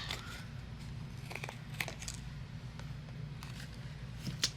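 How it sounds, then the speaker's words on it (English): Scissors trim overhanging card and foam edges on a handmade lemon greeting card. A few quiet, close snips and soft crinkles sound against a low background hum. "anything overhanging we are going to trim away with the scissors through the foam and all."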